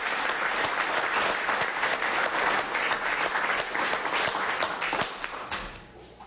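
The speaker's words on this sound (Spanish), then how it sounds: "Para él pido un aplauso" Sustained audience applause at a Venezuelan council of ministers, steady dense clapping from a room full of people that fades out over the final second.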